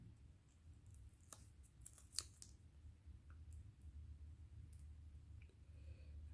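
Scissors snipping scraps of paper for a handmade Route 66 themed card, a few short, crisp cuts and clicks up close against a quiet background.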